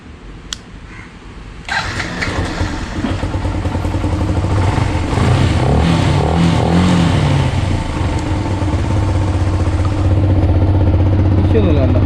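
Motorcycle engine cranks and catches, then runs loud and close with rough revving and throttle blips continuing to the end.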